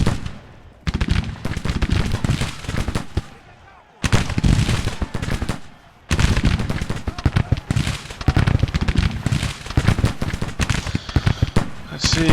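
Artillery and gunfire crackle in a Civil War video game, with dense continuous booms and rattling shots broken by two brief lulls, loud and close throughout.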